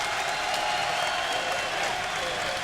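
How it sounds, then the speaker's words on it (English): A wrestling crowd at TNA's Bound for Glory pay-per-view at the Bren Events Center, UC Irvine, cheering and applauding in a steady, dense roar of clapping and voices from the arena. "You hear the reaction from the crowd here at the Brent Event Center, UC Irvine, Southern California"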